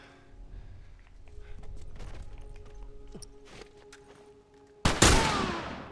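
Single loud gunshot from a headshot in The Last of Us Remastered, a sharp blast near the end after a stretch of quieter game ambience and faint movement sounds.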